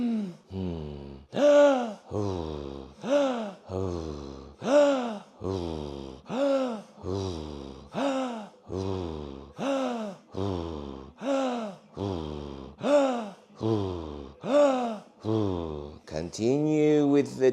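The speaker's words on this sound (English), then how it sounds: "Continue with the deep breathing." Deep, rhythmic Wim Hof method breathing: about fifteen strong, loud inhale-exhale cycles in a steady pulse, each a forceful breath with a voiced, gasping quality, close and dominant, ending in a quicker, rougher breath.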